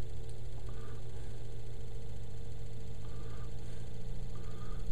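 A small Bedini electric motor runs at about 1400 RPM on a fixed resistor, giving off a faint, steady hum with a constant low-pitched whir and no breaks.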